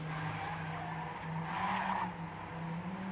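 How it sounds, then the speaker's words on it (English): Tires skid as a car drifts through a corner in a racing video game, a fairly quiet sustained squeal with a steady engine drone underneath. "Interesting to see that Sora is drifting that corner, which Bart is full speeding"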